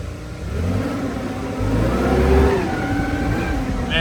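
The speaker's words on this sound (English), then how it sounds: "these little cat forklifts are awesome." A small Cat forklift drives past at a trade booth, its mid-pitched engine humming and revving steadily and close by, swelling slightly in the middle, with no talk over it.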